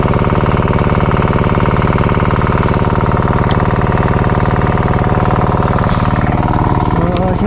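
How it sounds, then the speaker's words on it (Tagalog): Small fishing boat engine running at a steady idle, a loud, close, evenly pulsing chug with a strong low throb that holds throughout, and faint knocks near the end. "Inaandar ko na po yung makina."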